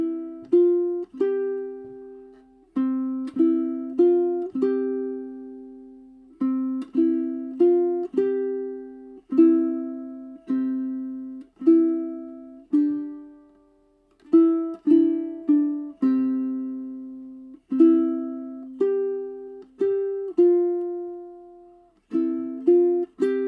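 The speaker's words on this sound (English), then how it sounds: "let me try playing this kind of finger picked rather than using my thumb" Ukulele chord-melody arrangement played finger-picked, slow clusters of plucked chords and single notes that ring and decay with short gaps between phrases, close and fairly soft, with no talking.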